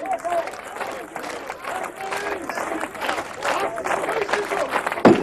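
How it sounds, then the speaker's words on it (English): Crowd noise at a 1988 World's Strongest Man event rises behind a struggling strongman, a steady broad roar with commentary speech over it and a sharp bang near the end. "the crowd getting behind him now."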